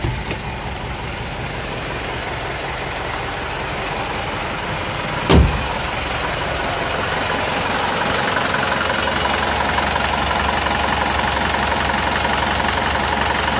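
Isuzu Panther diesel engine idling just after a cold start. It runs as a steady, close, low rumble, with one sharp click partway through and no talking.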